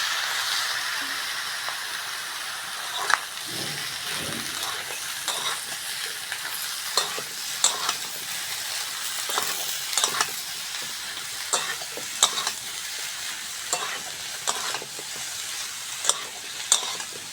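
Potatoes tossed into a pan for a Bengali fish curry fry in oil with a steady, broad sizzle, and scattered stirring clicks and scrapes recur through the whole stretch with no voices.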